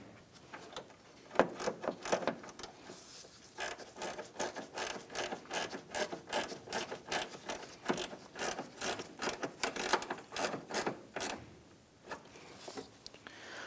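A standard 10mm bolt is snugged down with a ratchet while a windshield washer reservoir is replaced on a 2004–2008 Acura TL. Repeated quiet rhythmic ratchet clicks and scrapes come in a steady back-and-forth pattern up close.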